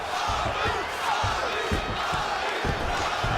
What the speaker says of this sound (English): crowd just loving it as the fighters